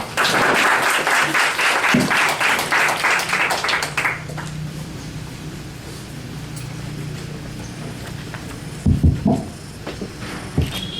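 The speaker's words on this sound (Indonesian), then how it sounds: "Tepuk tangannya." Crowd applause at a city park design competition event in Bandung, steady clapping for about four seconds, then dying into a low hum of room noise with a few scattered knocks and bumps.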